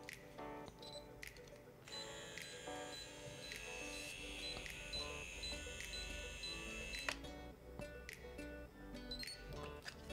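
An Edelkrone Slider One motorized camera slider powers on with a Canon LP16 battery and calibrates, giving faint clicks and a sustained high electronic motor whine that runs for several seconds before stopping with a click.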